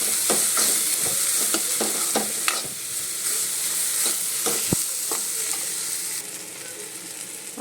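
Spiced field beans with salt, turmeric and chili masala stirred in a hot pan, a steady close sizzle broken by repeated scraping strokes of the spoon, with no talking.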